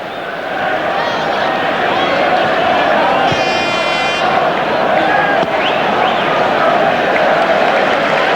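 Large football crowd of about 40,000 at Old Trafford during Manchester United v Blackburn Rovers, a steady loud roar filling the stadium throughout with brief whistles and shouts rising above it.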